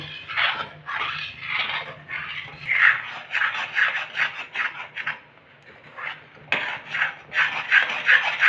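Milk powder khoya is stirred continuously in a pan, a rhythmic close scraping of the spoon against the pan bottom with short pauses, no talking.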